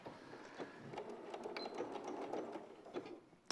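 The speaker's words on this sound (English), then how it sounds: "So then I'm just using both of my hands and just sewing them together." Sewing machine stitching fabric pieces together in a quilting demonstration, a steady fast whirring mechanical clatter running continuously for a few seconds at close range, with no talk over it.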